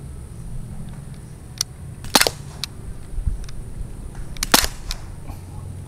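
Two sharp, snappy shots from a Daisy Powerline 5501 blowback air pistol a couple of seconds apart, close and crisp, with small clicks and mechanical handling noises in between.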